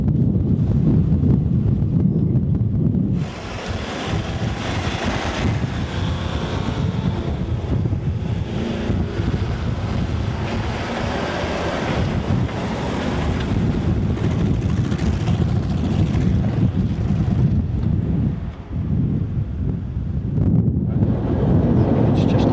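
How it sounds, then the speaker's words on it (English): A fierce sandstorm roars as a dense, steady rush of wind buffeting the microphone, loud and continuous throughout with only brief dips in force. "A fierce sandstorm is brewing, and once again the elements prove too mighty for mere man-made machinery."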